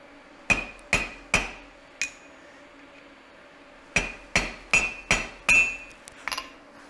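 A hammer forges hot metal over the horn of an anvil, ringing out in sharp metallic blows: four spaced strikes, a pause, then a quicker run of about seven close, bright hits.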